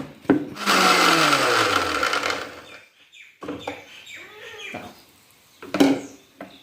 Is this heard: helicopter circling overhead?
no